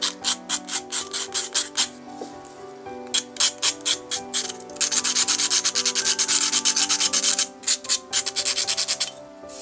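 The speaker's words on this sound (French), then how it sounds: "bien vous allez les gratter avec votre cutter." A utility knife scrapes leftover bits of cardboard, making rhythmic, close, rasping strokes in quick runs, with a long continuous stretch of fast scraping in the middle and a faint tonal hum underneath.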